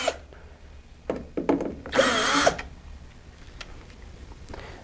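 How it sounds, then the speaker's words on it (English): A power drill with a Phillips bit backs screws out of a plastic bezel on a control panel, giving short close whirring bursts with a longer run in the middle and scraping handling sounds between. "So we're going to take our drill and go ahead and take those out."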